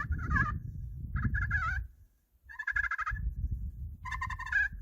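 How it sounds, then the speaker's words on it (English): Rolling turkey purrs played on an HS Strut Cookie Cutter slate pot call, four trilling bursts in a row, close and clear, with a short quiet gap in the middle. "Let's try the purr"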